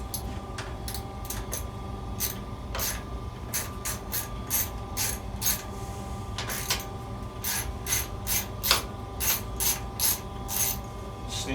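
Ratchet wrench loosening 5/16 bolts on a Kohler engine of a Massey Ferguson 2818H mower that has sat unused: a long run of quick clicking pawl strokes in irregular bursts, close up and fairly quiet, with no talk.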